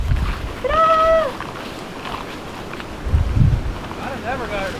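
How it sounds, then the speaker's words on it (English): Strong wind blows outdoors on a farm near cows, rumbling in gusts against the microphone, with a high animal cry cutting through early and more calls near the end. "It's gotten really windy out there."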